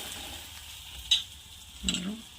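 Flat beans (val papdi) tipped into a hot pan and stirred, a low hissing sizzle broken by two quick scraping clatters of a spoon, close and without talking.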